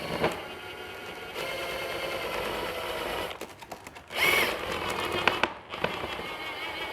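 An impact driver rattles screws into an RC plane, a Dynam T-28 Trojan with a 1.3 m wingspan, in quick close-up bursts with short pauses between them.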